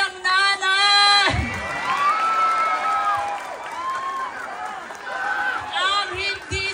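The crowd at a Miss Gay pageant cheers, whoops and claps loudly under a strong amplified voice and music, with the noise swelling in waves.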